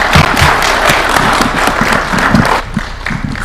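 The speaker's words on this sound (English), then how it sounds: "Another round of applause for His Excellency" Audience applause fills the room at a formal gathering after a Kenyan presidential address, a dense, loud, continuous clapping that carries steadily before thinning toward the end.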